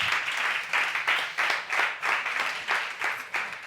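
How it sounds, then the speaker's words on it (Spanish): Applause from the audience at a Spanish sports inclusion forum, welcoming a Paralympic wheelchair basketball player, comes as a moderately loud wash of clapping that swells in rhythmic pulses for several seconds. "Un fuerte aplauso para Asier."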